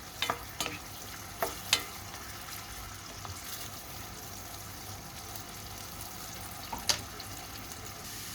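Onion sautéing in a pan for a beef dish, a constant soft sizzle and frying hiss with a few light clinks of a utensil stirring, close and alone.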